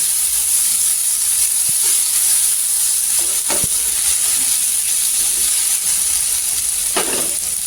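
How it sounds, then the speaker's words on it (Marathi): Tomatoes sauté in oil in a pan, giving a constant close hissing sizzle with a few faint scrapes of stirring, steady throughout and with no talk. "टोमॅटो पण तेलावर परतून घ्यायचं"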